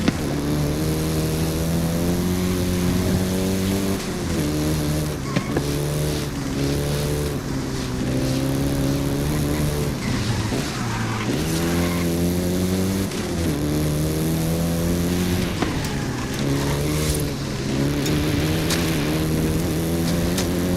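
A Volkswagen Golf GTI engine drones steadily in Forza Horizon 5, rising and falling with throttle and gear changes, loud and continuous with a buzzy harmonic tone.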